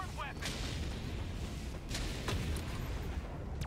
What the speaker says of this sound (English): He's doing an HE barrage